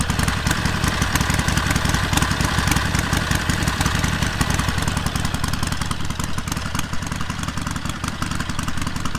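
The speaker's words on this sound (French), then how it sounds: "le moteur il tremble dans tous les sens et quand tu sens la bécane ça fait bizarre" A Harley-Davidson Forty-Eight motorcycle engine idles with a fast, loud, uneven thumping rhythm and rattling clatter, steady throughout and close by.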